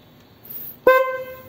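An electric bike's horn gives a single short, loud beep, sounding abruptly after a moment of quiet and ringing briefly before it stops.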